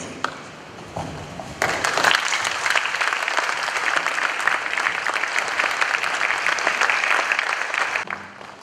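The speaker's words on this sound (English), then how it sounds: "A round of applause for Anna." Audience bursts into loud, dense applause at an Asantehene art award ceremony, beginning after a quiet moment and sustaining a thick crackle of clapping before it cuts off near the end.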